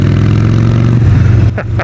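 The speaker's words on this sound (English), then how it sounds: "It's a 2008 Harley Davidson 1200 Sportster Nightster." 2008 Harley-Davidson 1200 Sportster Nightster motorcycle, its V-twin engine rumbling loud and close with a deep throbbing idle that swells briefly, followed by two short higher revving bursts.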